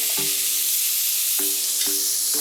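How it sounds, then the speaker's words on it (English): Chana frying in a pot with pumpkin gives a loud, continuous hiss and sizzle, with a few sharp knocks of stirring breaking through. "So now I'm going to add some of the chana to the pot."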